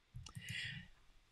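Mouse clicks while working in embroidery design software, a quick pair of sharp clicks followed by a short burst of low clattering, close and fairly quiet with no talking.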